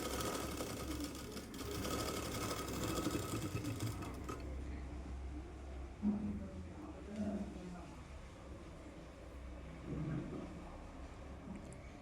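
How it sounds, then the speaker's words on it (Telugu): Sewing machine stitching a Punjabi dress, a steady close motor whir running continuously with a voice talking over it, easing slightly partway through. "ఇటు సైడ్ కూడా స్టిచ్ చేస్తున్నానండి"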